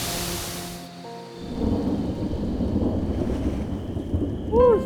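Rain falls outside with low rumbling thunder rolling underneath, a steady hiss and growl that swells toward the end.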